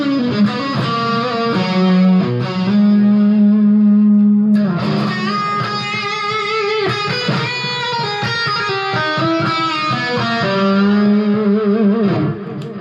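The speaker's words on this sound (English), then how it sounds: "if we threw on some reverb and delay, we would get something like this" Electric guitar notes ring out drenched in reverb and delay, echoing tails trailing behind each phrase, loud and continuous.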